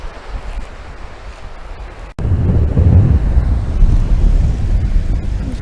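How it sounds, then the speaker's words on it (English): Water splashes at the shoreline of McNeill Bay, a soft surf wash that turns louder and closer midway, with wind buffeting the microphone throughout. "Look, we can splash."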